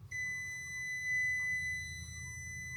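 A kitchen timer beeps during Christmas meal preparation, a steady high electronic tone held continuously for about three seconds over a low background hum.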